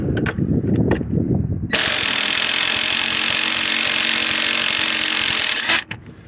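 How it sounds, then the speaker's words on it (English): A pneumatic impact wrench with a 22 millimeter socket loosening the nut on a JBA upper control arm ball joint: a loud, continuous rattling hammer burst of about four seconds, preceded by a few short knocks and clunks. "I'm going to use my impact because I don't feel like wrenching it."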